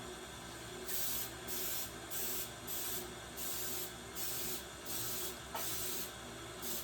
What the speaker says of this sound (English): I'm going to spray the pan. This is a spray that also includes the flour.